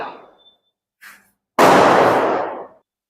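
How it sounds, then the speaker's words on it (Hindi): A single firecracker bursts with a sharp, loud crack that decays into a roughly one-second rumbling hiss, preceded by a couple of faint, brief noises. "पटाखा भी फूट रहा है"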